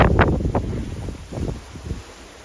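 Steady wind gusts buffet the microphone on a small sailboat moving at about 6 or 7 knots through rough seas, with a continuous low rushing roar and rustling surges.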